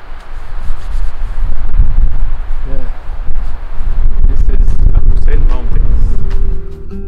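Strong wind on a mountain in the Carpathians roars and buffets the microphone continuously, with gusty rumbling and rustling throughout and a faint hum toward the end.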